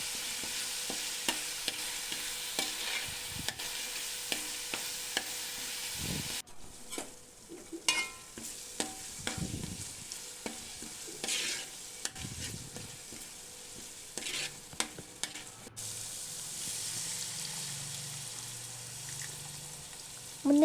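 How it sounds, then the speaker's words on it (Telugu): Fish curry is stirred in a frying pan after coriander is added, giving soft sizzling with repeated scraping and clinking of a spoon against the pan, fairly quiet and close, with no talk. "కొంచెం కొత్తిమీర వేసుకొని కలుపుకోవాలి."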